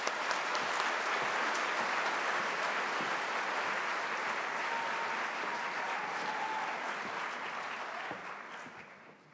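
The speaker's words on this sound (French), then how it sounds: "On l'applaudit très fort." A large audience at the AgroParisTech 2024 graduation ceremony at the Folies bursts into dense, sustained applause, steady and loud for most of its length before thinning out and fading at the end.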